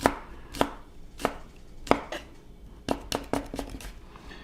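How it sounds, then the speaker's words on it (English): A knife slices a garlic clove thin on a cutting board, giving about a dozen sharp, close chops in an uneven rhythm, clear and alone with no talking. "So you just slice it thin first."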